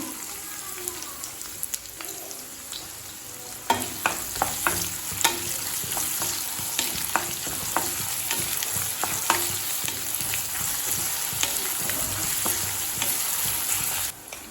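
Chopped onion fries in hot oil in a kadai with cinnamon, clove and fennel seeds, giving a steady dense sizzle throughout and scattered crackles and stirring clicks, with no voices.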